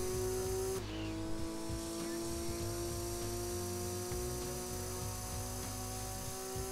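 A race car engine roars steadily in Gran Turismo 2, with a sustained high drone, a brief gear-shift dip near the start and faint tire squeal, loud and continuous with no talk.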